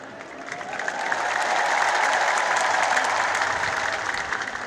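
A crowd applauds at an Ethiopian Timket (Epiphany) celebration in Gondar, with dense, sustained clapping that swells after the first second and holds steady, loud and close, with no talking.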